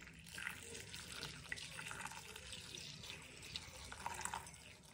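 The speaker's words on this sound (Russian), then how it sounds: "Сюда добавляем горячую воду." Hot water is poured onto dried fruit in a plate, making a soft, continuous splashing trickle at low volume for a few seconds.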